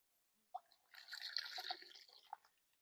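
Water poured onto tiles while cleaning off grout residue, a brief soft splash followed by a quiet trickling, spattering flow lasting about two seconds, close and faint.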